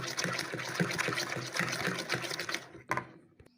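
Warm milk poured for a caramel flan cake, a steady liquid stream running close and fairly loud for about two and a half seconds, then a brief clink and a few faint trickles as the pour ends.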